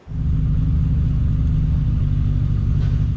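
Nissan Skyline R32 GT-R, the Built by Legends car, with its engine holding a steady, loud low rumble throughout and no voices over it.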